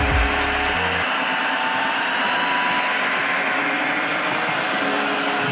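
A Dreame H11 Max wet vacuum cleaner cleaning spilled cola off a floor, running with a loud, steady whirring motor and suction roar close by, switching on abruptly at the start and continuing without pause.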